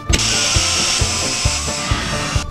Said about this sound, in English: I'm gonna drill a couple of holes in